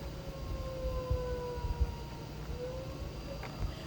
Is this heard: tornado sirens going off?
yes